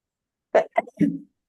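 A single sneeze close by, a sharp intake followed by a burst and a brief trailing exhale, with quiet before and after.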